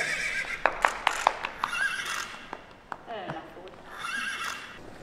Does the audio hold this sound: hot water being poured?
no